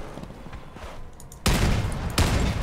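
Heavy vehicle-mounted weapon fire in the vehicle combat game Crossout, two loud, dense blasts of fire kicking in one after the other, with quieter game noise before them.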